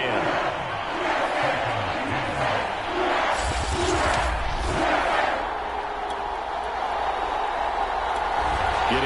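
Stadium crowd noise from Madden NFL 22, a Saints franchise game, a steady dense roar of cheering that swells briefly in the middle, with a faint commentary voice.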